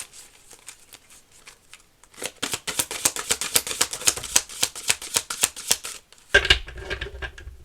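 Oracle cards from a Seasons of the Witch deck are shuffled by hand in a quick, steady run of crisp riffling flicks, close and clear with no talking, ending in a brief rustle as the cards settle.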